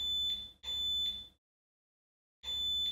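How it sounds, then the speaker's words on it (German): Bear-Lock anti-theft alarm siren fitted in a VW T6.1 van sounds a loud, steady high-pitched electronic tone in repeated bursts, two close together, then a pause of about a second before it resumes. "Wenn jemand an der Spannung sabotiert oder die Alarmzentrale vom Bordnetz abzieht, löst die Sirene selbstständig einen Alarm aus."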